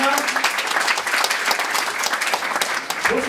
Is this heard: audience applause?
yes